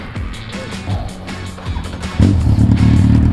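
Motorcycle engine, a C1000 bike, idling close by then revving up louder in a short burst of throttle.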